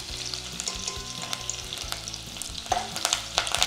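Lots of garlic with curry leaves sautéing in hot oil with mustard seeds and cumin in a home kitchen, a steady close sizzle with crackling pops and stirring clinks, no talking.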